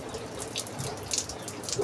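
Rainwater from fresh rain runs in a quiet steady trickle near a house, with scattered soft drips and splashes breaking through.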